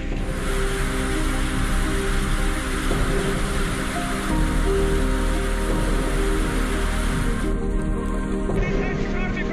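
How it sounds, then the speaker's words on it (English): A dense, steady roar of an intense hailstorm hammering down on surfaces in Tulancingo, Mexico, loud and continuous throughout. "intense hailstorm covers Tulancingo, Mexico"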